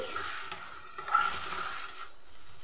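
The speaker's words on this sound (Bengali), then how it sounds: "এবার মশলাটাকে খুব ভালো করে কষিয়ে নিচ্ছি।" Spice masala with turmeric powder being stir-fried in a pan for a fish-head murighonto, giving a soft sizzle with scraping and stirring strokes close up and no voices.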